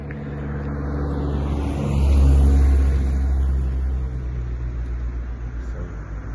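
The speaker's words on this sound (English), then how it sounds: "Car coming." A car drives past on a residential street, its low engine rumble swelling to a peak and then fading as it moves away, steady outdoor ambience underneath.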